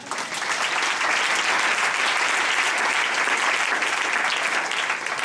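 A church congregation applauds, a dense, continuous wash of clapping that stays loud and even for several seconds.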